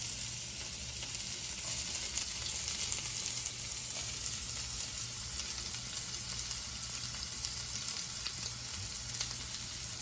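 Chopped onion sautéing with ginger in an oiled pan for spicy kuli paniyaram gives a steady, fairly soft sizzle that holds evenly throughout, with faint stirring and no voices.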